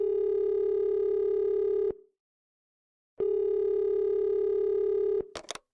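A telephone dial tone: a steady loud electronic hum runs for about two seconds, cuts to silence, returns for another two seconds, then a couple of short sharp clicks end it, with no talk.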